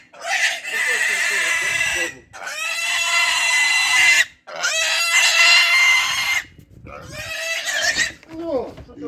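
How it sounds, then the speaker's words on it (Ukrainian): Pigs and piglets on a Ukrainian farm squeal and grunt in long, loud, shrill bursts with brief gaps between them, close by, with low rustling underneath. "Це свинка."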